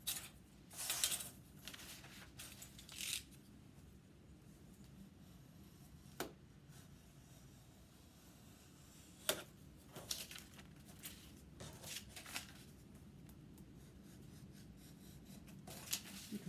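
An X-Acto hobby knife scrapes and slices through material in short, quiet strokes, close but faint, with intermittent scratchy rasps over a soft background hum.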